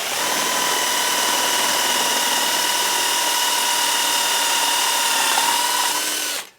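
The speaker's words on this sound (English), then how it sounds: "That first hole's been drilled." Power drill boring the first hole through a rocker armor panel for a Polaris 900XP snowmobile, a steady loud whine held for about six seconds before cutting off, with no talking.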